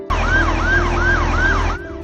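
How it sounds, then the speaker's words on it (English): Ambulance siren travelling with an escort, a loud, close wail rising and falling in a steady, rapid repeating cycle over engine rumble, cutting off abruptly near the end. "the appearance of this ambulance with an escort heralded a breakthrough"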